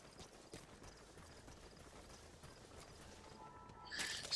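D-Horse in the Metal Gear Solid V video game, soft rhythmic hoofbeats at low level under ambient game sound, ending with a brief brighter burst.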